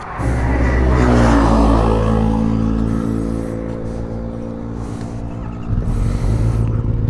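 A superbike engine revs hard while being ridden: a loud, close, continuous roar that swells and eases with the throttle, with no talking.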